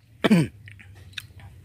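A single close, sharp cough, followed by faint small mouth and throat noises in a quiet room.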